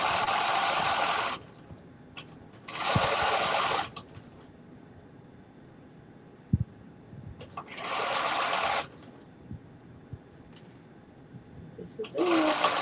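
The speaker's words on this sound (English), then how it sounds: "I'm going to do a back stitch as well" A sewing machine stitches a back stitch on a caftan in short, loud, close bursts of rapid whirring, separated by quieter pauses with small clicks and handling noises.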